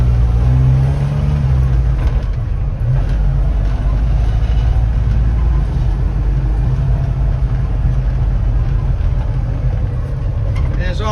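A 1998 Jeep Wrangler with a manual transmission turns around and is shifted into first gear, its engine giving a loud, steady low rumble throughout while someone talks over it.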